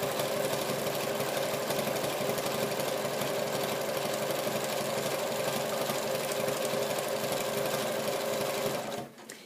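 A sewing machine runs steadily and loudly up close, zigzag stitching fabric strips for a twenty-strip tote, with a fast even mechanical whir for about nine seconds before it slows and stops.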